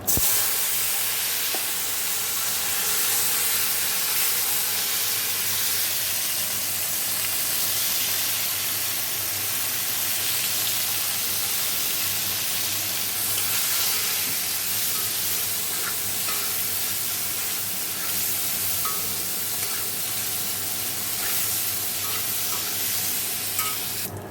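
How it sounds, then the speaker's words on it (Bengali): Cauliflower fries in a pan on a winter morning with a steady, close hiss of oil that holds throughout, with faint scrapes and clicks of stirring and no talking. "এখানে ফুলকপি আছে আর ফুলকপিটা ভেজে নেবো"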